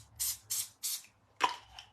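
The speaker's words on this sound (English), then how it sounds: "I'm just taking my spray adhesive." A can of spray adhesive hisses in three short, even bursts close by, followed by a sharper spritz and a fainter final puff.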